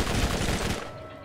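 Rapid automatic gunfire from an enemy positioned above in the Borderlands PC shooter, a dense burst of shots lasting about a second, moderately loud and fading out at the end.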